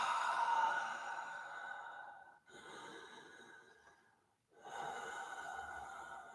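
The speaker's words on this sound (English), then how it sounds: "You and the sound of your breath, you and the Ujjayi breathing." Steady, audible Ujjayi breathing during a Forrest Yoga session, long rasping breaths through a constricted throat, close and fairly loud, with a brief pause before each new breath and no talking.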